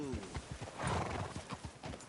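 Horse hooves clip-clop in a steady rhythm close by in the video game Red Dead Redemption II, a whinny rising in the middle, while people talk over the hoofbeats.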